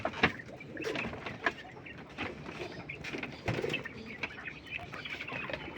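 European giant quail calling in their pen, a run of short coos and clucks with the occasional wing flap, fairly close and steady, with no voices over them.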